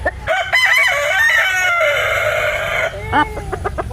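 A Black Australorp hen in molt, partly bald, gives loud, steady chicken calls close by. Farmyard crowing and clucking fill the clip with little pause.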